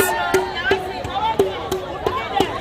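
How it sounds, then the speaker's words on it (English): A large crowd of about 500 women gathered at a protest by council premises, having come from Ekona; steady hubbub of many voices with sharp repeated knocks cutting through at a regular pulse. "I think we have a crowd of about 500 women gathered here, all the way from Ekona."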